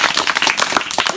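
A brief burst of group clapping at an outdoor tree-planting gathering in a Pakistani village, a quick irregular patter of hands close by.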